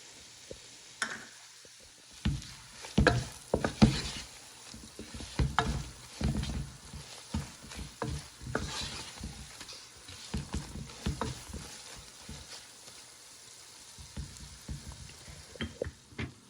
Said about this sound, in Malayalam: ചെറുതീയിൽ മസാല എല്ലാം നന്നായിട്ട് മൂത്ത് വന്നിട്ടുണ്ട്